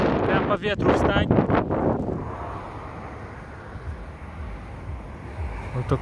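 Gusty outdoor wind roars steadily across the microphone as a dull, broadband rush, following a couple of seconds of a person talking at the start.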